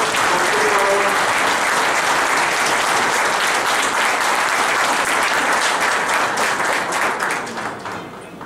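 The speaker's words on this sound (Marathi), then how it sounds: "मी सर्वांना एकदा जोरदार टाळ्या वाजवून त्यांचं अभिनंदन करावं" A large audience at a Rotary Club of Pandharpur felicitation and closing ceremony breaks into loud, sustained applause lasting several seconds before tapering off at the end.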